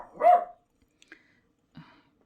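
A small puppy gives one loud, close bark, then a couple of brief faint yips and another short softer bark, separated by silence, with no talking.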